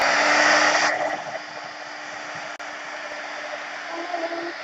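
Hair dryer blowing on wet paint in a canvas art journal, a loud steady close-range whoosh with a high whine that drops in pitch after the first second as the setting changes, then runs on evenly.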